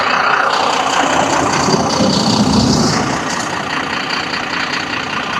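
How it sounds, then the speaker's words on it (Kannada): A Volvo Multi-Axle 9600s luxury bus engine drones steadily from a back seat inside the cabin, a continuous low rumbling hum that eases slightly toward the end. "ಇಂಜಿನ್ ಸೌಂಡ್ ನೋಡಿ ಯಾವ ಥರ ಕೇಳಿಸುತ್ತೆ ಅಂತ."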